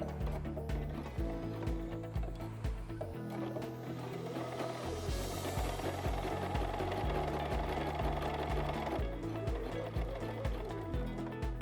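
A sewing machine stitches a fur mitten around a curve, a rhythmic thumping of slow stitches in short runs and pauses, with a longer steady stretch in the middle, close and fairly loud.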